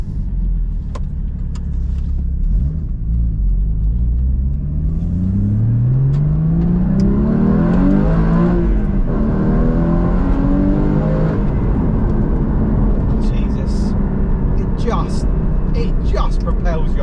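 A Porsche GT4 sports car with a naturally aspirated, high-revving engine accelerates through the gears, its pitch climbing in repeated sweeps as it rises and drops between shifts.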